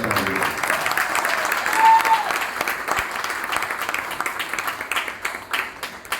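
Sustained audience applause fills a hall at an Anti Corruption Foundation of India event, a steady dense wash of clapping that swells slightly midway and continues with faint voices underneath.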